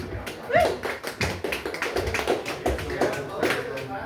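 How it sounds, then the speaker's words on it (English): Audience at an open mic night clapping, with steady scattered applause from a small crowd and some voices mixed in. "Round of applause for Sylvan."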